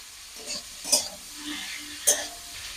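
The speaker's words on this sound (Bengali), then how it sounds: "দিয়ে এটা ভালো করে একটু নাড়িয়ে চাড়িয়ে নেব।" Boiled chickpeas frying in a pan are stirred with a utensil, giving soft sizzling under two sharp clinks against the pan, close and fairly loud with no talking.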